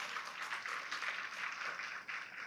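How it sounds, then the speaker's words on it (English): Audience applause at a tourism department general assembly meeting in the Philippines, a steady wash of many hands clapping, faint and slightly distant, with no talk over it. "Atong pakpakan, let's give her a round of applause"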